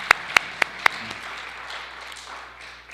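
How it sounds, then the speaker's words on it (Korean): A few sharp, close claps ring out at a church worship service, four distinct hand claps in quick succession followed by quieter scattered applause fading into room ambience. "우리 통역하는 자매를 위해서 박수로 한 번 더 축복하겠습니다."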